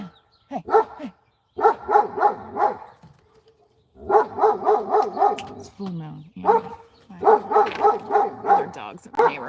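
Dogs in the neighborhood bark in repeated rapid volleys, fairly close and loud, with whimpering yips between bursts and a person speaking briefly over them.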